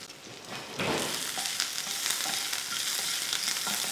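Mustard seeds, curry leaves, green chilli and crushed garlic sautéing in hot oil, a steady close sizzle with brief spatters and stirring scrapes throughout, growing slightly louder after the first second.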